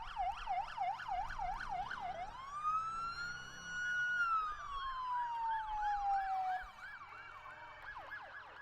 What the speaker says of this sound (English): if you're hearing sirens, you're jumping onto Facebook, you're wondering what's going on